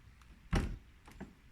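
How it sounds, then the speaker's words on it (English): A heavy old door in a 900-year-old chateau fort being opened, one deep solid thunk followed by two fainter knocks, close and alone in a quiet dark interior. "I don't know if I should try and open the door."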